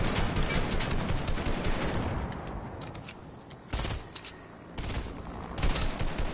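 Video game gunfire rattles in rapid automatic bursts, loud and close, with brief pauses between volleys and sharper cracks toward the end.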